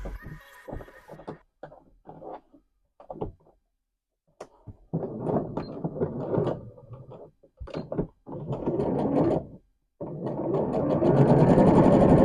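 A sewing machine stitches a fabric scrunchie in several close, rapid mechanical runs that start and stop, with short pauses and handling noises between them and a longer, steady final run.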